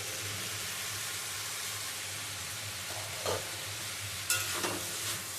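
Potato and pumpkin sizzle steadily in a frying pan with a broad, even hiss, broken by a few brief scraping stirs near the end.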